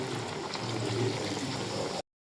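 Water poured into a cooking pot in a home kitchen, a steady close splashing rush that runs for two seconds and then cuts off abruptly into silence.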